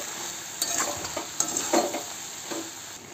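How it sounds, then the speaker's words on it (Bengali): Malabar spinach with chilli-cumin paste is stirred in a pan, giving faint intermittent scraping and light sizzling over a steady low frying hiss, with no talking. "এবার একটু নাড়িয়ে চাড়িয়ে দেবো।"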